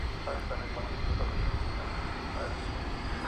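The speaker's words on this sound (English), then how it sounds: "Our first departure of the evening is going to be Sun Country." A Sun Country jet departs DFW after dark, its engine noise a steady, moderately loud broadband roar that swells slightly midway through, with some faint talk in the background.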